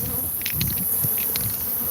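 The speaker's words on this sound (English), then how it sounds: "these are killer bees. These are Africanized honeybees" Africanized honeybees, killer bees, drone in a steady close buzz inside a hive in a shed, with individual bees whining past.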